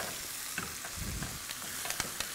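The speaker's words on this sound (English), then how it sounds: "So we're going to start sauteing" Food sautés in a pan with a quiet, steady sizzle and a few crisp pops and stirring clicks, fairly faint and close, with no talking.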